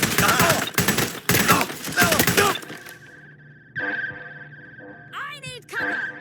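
Bursts of gunfire in a Watch Dogs Legion firefight, several loud rapid volleys in the first half, then quieter ambience with a steady tone and a short shouted voice line.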